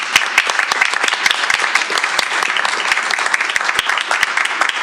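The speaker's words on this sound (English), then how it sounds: "let's give her a round of applause" A crowd at a board meeting applauds steadily for several seconds, dense overlapping claps at an even loudness, with no voices standing out.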